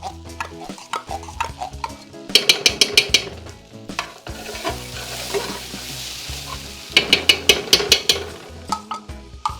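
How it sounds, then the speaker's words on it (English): Tomato paste stirred into braising brisket, a spoon scraping the pot in bursts of quick strokes, over a steady background sizzle from the meat. "We're just going to stir that in"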